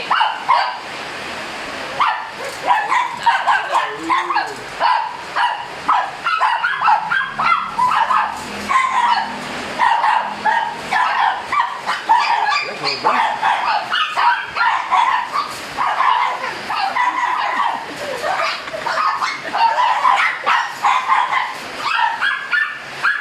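Dogs in Cavite, Philippines, bark and yip continuously in a busy, overlapping chorus, sharp repeated barks over a steady wash of background noise.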